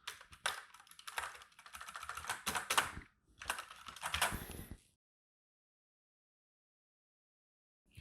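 Fingers type rapidly on the plastic keys of a Foldano foldable keyboard, close and clicky in a few dense bursts, then silence.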